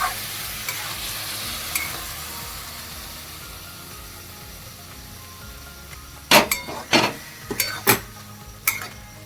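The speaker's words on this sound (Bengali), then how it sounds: "এইটাকে আমি আস্তে আস্তে এর সঙ্গে মেলাতে থাকবো" Thickened milk reduced to khoya being stirred into carrot halwa in a pan, with a soft steady sizzle followed by a cluster of close, sharp scraping and clinking stirs near the end.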